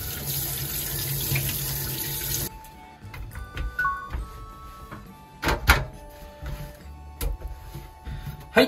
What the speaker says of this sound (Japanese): 鱗がかけたのでリードペーパー取って水洗いしていきます